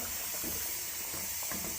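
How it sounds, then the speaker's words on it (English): Steam vented from a pressure cooker holding a simmering Sunday gravy sauce: a steady, loud, unbroken hiss close by with no talking. "I'm blowing the steam off of our pressure cooker."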